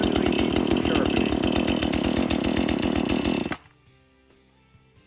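Chainsaw with a dull chain cutting logs during an off-grid log cabin build, a loud close buzzing roar that runs steadily and then cuts off abruptly, leaving near silence.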